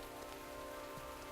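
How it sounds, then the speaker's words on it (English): Steady rain in the video game Dyscourse, an even, continuous patter of falling drops at a constant level with no talking. "It's raining."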